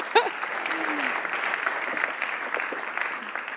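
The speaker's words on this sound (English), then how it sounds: "can I ask for one more round of applause for Scott and Natalie?" An audience claps steadily at a live financial industry debate event, a dense, sustained wash of applause from a crowd, with a voice briefly audible at the start.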